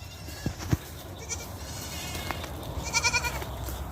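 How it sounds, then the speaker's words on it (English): Goats bleat outdoors near a road, a few soft, short calls with a quavering cluster near the end, faint against steady outdoor background noise. "These goats are awesome."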